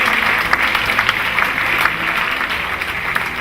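A church congregation claps together in praise at a worship service, a steady, moderately loud patter of many hands sustained throughout.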